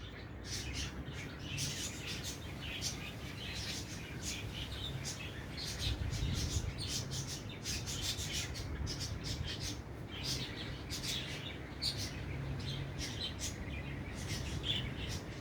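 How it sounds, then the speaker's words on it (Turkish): Many birds chirp and tweet continuously in the countryside in mid-morning, a busy outdoor chorus over a steady murmur of noise, with faint voices now and then. "Demek kuşların en çok ettiği vakit."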